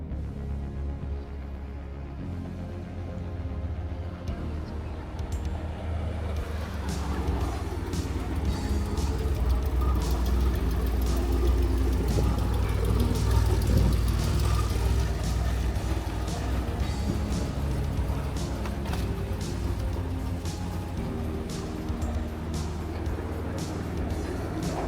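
A DeLorean drives along with a continuous engine and road rumble heard from inside, swelling midway and easing off again, with no clear talking.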